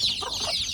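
Free-range native Indonesian chickens (ayam kampung) cluck in a brief, close burst of short calls over a faint outdoor background.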